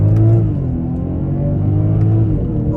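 A 2023 BMW 540i accelerating in first gear on paddle shifters, a loud close engine rumble with rising and shifting tones, steady and continuous without voices.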